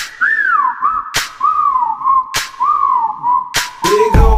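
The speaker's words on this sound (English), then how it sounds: "Okay, time to whistle at her." A person whistles a wavering, sliding catcall tune at a girl, several close, loud phrases separated by brief sharp clicks.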